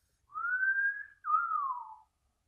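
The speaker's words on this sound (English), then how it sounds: "The Gatherer whistles." A person whistles two clear sustained notes, a long level tone then a short break and a gently falling tone, alone in a quiet room.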